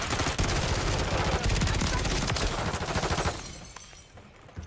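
Automatic weapons fire in a Call of Duty Modern Warfare 3 multiplayer match: rapid, dense bursts of loud close gunshots rattling continuously for about three seconds, then fading to sparse, quieter shots.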